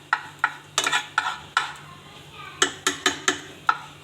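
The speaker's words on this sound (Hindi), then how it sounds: "बस इसको हिलाते जाना है।" A spoon clinks and scrapes against a pan while flour is stirred and roasted over a low flame, giving about a dozen sharp, evenly spaced taps with a brief lull in the middle.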